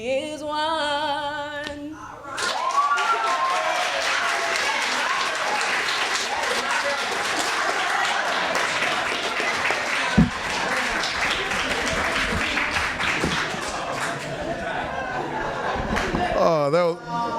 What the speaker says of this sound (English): Let's give her another great round of applause